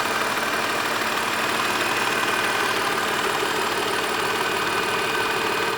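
A 2002 BMW 520i E39 sedan's engine idles steadily, a constant, even hum heard alone and close with no change in pitch or level.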